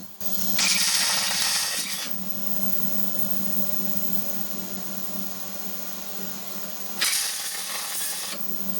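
A welder tack-welding a new driver's floor panel into a Triumph TR4 with the heat turned up, two separate bursts of harsh crackling buzz a few seconds apart, each about a second and a half long, close over a quiet hum.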